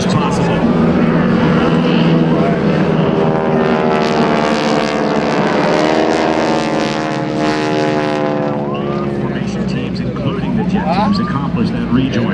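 GEICO Skytypers aircraft drone overhead at an airshow, a loud, sustained propeller roar that sweeps in pitch as the formation passes, with an announcer talking over it throughout.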